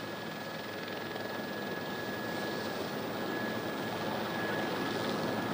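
A JetBlue Airbus A320 airliner lands with failed landing gear, its tires burning as it slows down the runway: a steady, broadband engine and rolling roar with a faint constant whine, continuous and fairly distant, with no talk over it.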